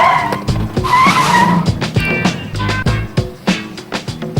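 Race car braking hard on a racetrack, with loud tire squeal and skidding over a revving engine, sharp clicks and downshift bursts repeating in quick succession, close and without talk.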